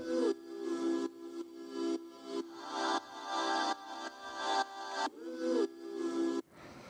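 A recreated sample loop, built from a vocal recording, plays a warm, chopped chord pattern with rhythmic swells, repeating steadily before stopping near the end.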